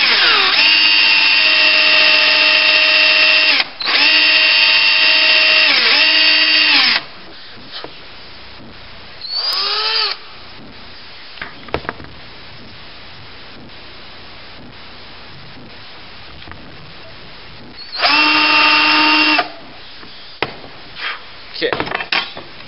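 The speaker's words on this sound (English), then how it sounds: "And when it gets that height, you drill." A power drill bores into a one-piece pipe in two loud whining bursts, then one more later, with quieter rubbing, handling and scraping sounds in between.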